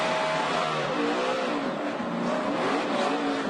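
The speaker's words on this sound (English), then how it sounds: "You hear it hopping. Yeah, wheel hop" A race car at Sonoma braking hard into a corner with wheel hop, the engine roaring loud and close as the tires chatter and shudder against the track.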